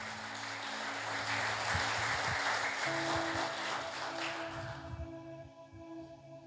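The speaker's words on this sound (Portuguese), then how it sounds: "Aplauda o Senhor." A church congregation claps for several seconds in a moderately loud, dense patter that thins out toward the end, with faint sustained tones underneath.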